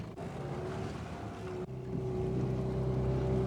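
A fishing boat's engine runs in gear off Tofino, British Columbia, a steady low drone with wind and water noise that briefly dips and then returns slightly louder and more constant.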